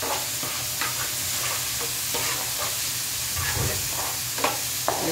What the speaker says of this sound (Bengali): তো টমেটোটা কতক্ষণ নাড়াচাড়া করে মিক্স করবো পেঁয়াজের সাথে।